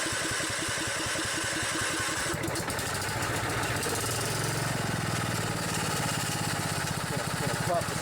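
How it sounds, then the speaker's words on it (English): An old Briggs riding lawn mower engine that has sat unused struggles to start, then catches and runs with a rough, loud, rapid chugging that continues close by throughout. "All of these mowers have been sitting a while, so they're kind of having a tough time starting up."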